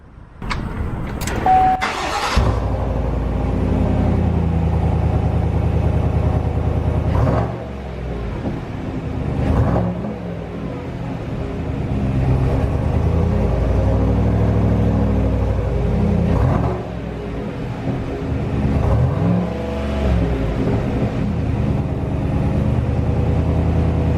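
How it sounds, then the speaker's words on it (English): A 2019 GMC Sierra Denali with a GM cat-back performance exhaust starts with a short crank, then settles into a loud, steady, deep rumble with a few swells in revs, heard up close for over twenty seconds. "Today we're going to look at the catback exhaust system provided by General Motors."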